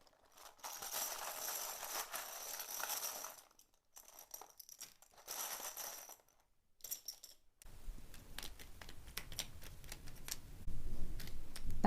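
Tarot cards shuffled by hand, a dense papery riffling and flicking in close bursts separated by brief pauses, then shifting to softer, lower card handling and sliding with no talk.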